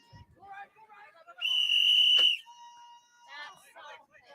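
Referee whistle at an ultimate frisbee game signalling the cap, one sharp, loud blast lasting about a second, with people talking before and after it.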